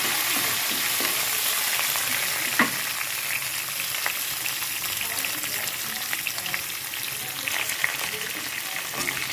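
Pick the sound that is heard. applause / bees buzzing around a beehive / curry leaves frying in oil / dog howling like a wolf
curry leaves frying in oil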